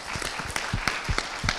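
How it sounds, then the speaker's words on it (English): Lecture audience applauding at an astronomy symposium, scattered individual claps standing out over a diffuse wash of clapping, brief and moderately distant. "Round of applause."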